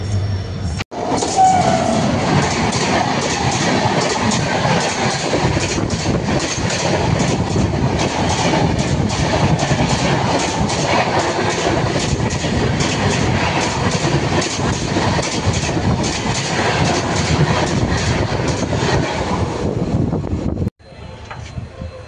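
A train rumbles steadily along the tracks near Bongaigaon railway station with a dense, continuous roar and faint rhythmic clatter, loud and close, for about twenty seconds before cutting off.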